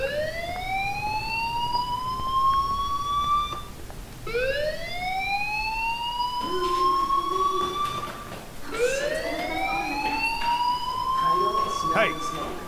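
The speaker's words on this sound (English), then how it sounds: "Do you hear that fire alarm?" A fire alarm in the video game Life is Strange, wailing in three long rising sweeps, each cutting off and restarting, with faint background sounds beneath.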